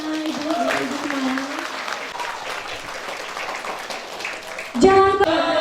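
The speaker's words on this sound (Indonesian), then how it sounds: "Beri tepuk tangannya Ibu semua." An audience at a school graduation ceremony claps together in a broad, steady rattle, with a tonal musical sound at the start and a louder burst of music near the end.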